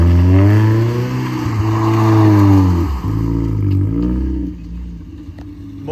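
A lowered stance car does donuts, its engine revving hard and holding high with rising and falling pitch, tires squealing, close and loud throughout before easing off toward the end.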